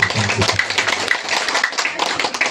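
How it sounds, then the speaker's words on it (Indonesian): Brisk, close hand clapping from an audience at a high school graduation farewell ceremony for final-year students in Sikka, Indonesia, lasting a couple of seconds in an uneven patter. "Boleh tepuk tangan, boleh."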